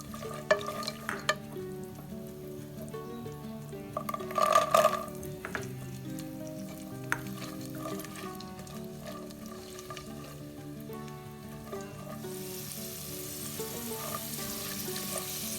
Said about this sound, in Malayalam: നട്ട്സ്, ബദാം ഫ്ലേക്സ്, കിസ്മിസ് എല്ലാം കൂടി ഒന്ന് ഫ്രൈ ചെയ്തെടുക്കണം.